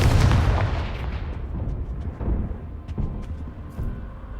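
A Confringo blasting spell detonates in Hogwarts Legacy with a loud, deep boom that rolls into a long, fading rumble, while smaller crackling bursts and debris pops follow over several seconds.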